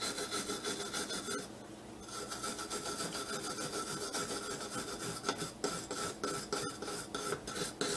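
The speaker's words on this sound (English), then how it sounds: "So I'm going to use the metal brush on these threads here to clean up all of this grime that's in these threads here" Metal brush scrubbing grime out of the threads of a Tristar 12-gauge semi-auto shotgun, a close raspy back-and-forth rubbing in quick repeated strokes, brief pauses between bursts, no talking.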